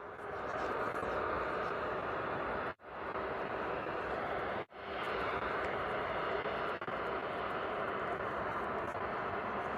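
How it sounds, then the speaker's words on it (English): An EasyJet Airbus A320neo airliner moves at Bristol Airport, its engines giving a steady broadband roar, close and loud throughout, with two brief dropouts. "EasyJet is on the move, which is our A320 Neo that's going to be heading out to Previsa."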